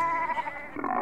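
A goat bleats once in a farmyard, a single wavering nasal call lasting about a second, close and fairly clear.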